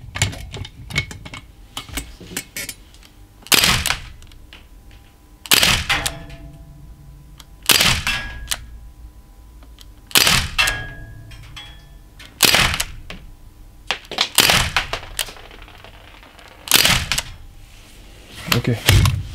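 A Crosman ST1 air gun fires unsilenced in a precision test at eight metres, with about eight sharp, loud cracks spaced a couple of seconds apart, each followed by a short metallic rattle.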